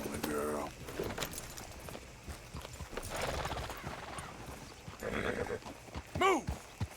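A horse in the Western video game Red Dead Redemption 2 plods along with soft, uneven hoof clip-clops, giving a short whinny near the start and a louder snort-like neigh near the end, with game dialogue and ambience mixed in.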